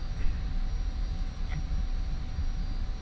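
Jet aircraft taxiing on the ground in the DCS flight simulator game, a steady low engine rumble with a faint high whine holding level throughout, no talk.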